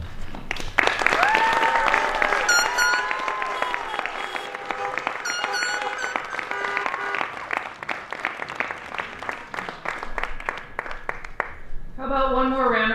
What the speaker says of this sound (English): How about one more round of applause for our valedictorian and co-salutatorians?